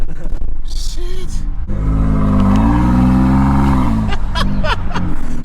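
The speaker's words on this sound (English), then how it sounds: "Dude, the sound is crazy. Hear the turbos." A lifted truck with turbos and a near straight-pipe exhaust with catted downpipes revs up close and loud, the engine tone rising and falling over a few seconds, with people talking before and after.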